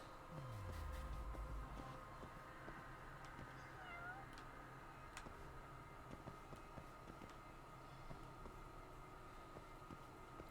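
A cat meows faintly a few times in the video game Judgment, thin mewing calls over a steady low hum and occasional clicks, quiet and somewhat distant.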